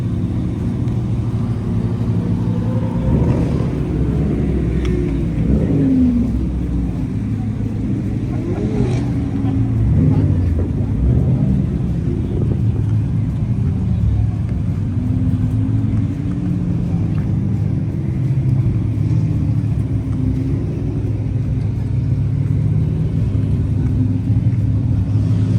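Ford Mustangs on a coastal cruise rumble past steadily, a low continuous engine drone with occasional revving swells, close and loud over wind and road noise.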